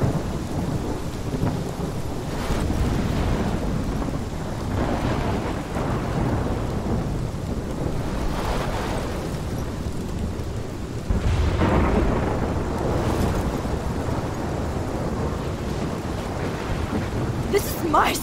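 Heavy rain pours steadily while thunder rumbles and cracks through a storm in the video game Life Is Strange, loud and sustained, with faint voices mixed in at times.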